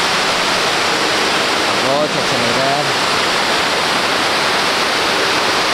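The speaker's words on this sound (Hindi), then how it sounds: "ये रहा वाटरफॉल" A waterfall on the Hemkund Sahib trek roars as a loud, constant wash of rushing water, with someone speaking briefly over it.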